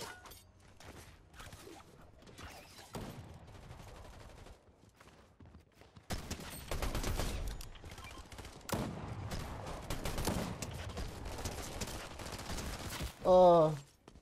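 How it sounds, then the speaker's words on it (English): Gunfire rings out in the Fortnite Chapter 5 50v50 mode: rapid bursts and scattered shotgun blasts crackle through a busy game soundscape, with footsteps and a player's voice underneath. "I'm shooting at the wrong person."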